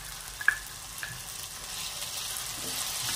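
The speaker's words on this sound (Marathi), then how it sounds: "कढीपत्ता जरा परतवून घेत आहे" Curry leaves sautéing with ginger-garlic-chili paste in a pan. A faint, steady sizzle continues throughout, with a couple of sharp clicks near the start and no talking.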